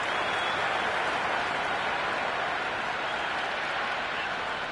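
Crowd in the cricket video game Cricket 26, Ashes mode, applauding and cheering after a big shot over the boundary; a steady, dense wash of clapping and crowd noise that holds evenly throughout.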